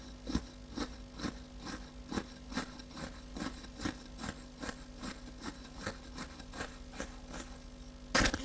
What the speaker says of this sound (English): that's the sound of the needle catching the fibres.